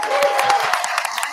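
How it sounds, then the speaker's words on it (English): An audience applauds at a mayor's final city meeting: a dense, steady patter of many hands clapping, close and fairly loud throughout, with a voice briefly audible over it. "And I want to double down on that round of applause."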